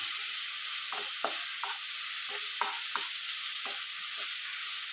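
Garlic and green chillies sauté in a pan, a constant bright sizzle broken by about eight spoon scrapes and stirs at an uneven rhythm, close and alone.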